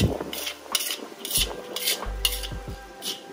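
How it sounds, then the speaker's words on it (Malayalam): A utensil stirs and spreads Chinese prawn fried rice in a pan, making repeated scraping and clinking strokes at an irregular rhythm, close and clear, over a faint sizzle with no talking. "അതെല്ലാം ഇങ്ങനെ വിടർത്തിയിട്ട് നമ്മൾ ഇളക്കണം"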